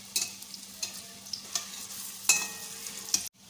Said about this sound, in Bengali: বড়াগুলোর এক পাশটা ভাজা হয়ে গেলে আস্তে ধীরে আর এক পাশটা উল্টে ভালো করে ভেজে নিতে হবে।